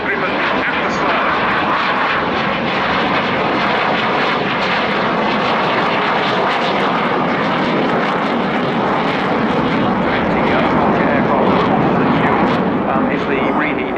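Gripen jet fighter flying a slower pass at the RIAT airshow: a loud, continuous roaring jet rumble that holds steady and swells slightly near the end, with a commentator speaking over it.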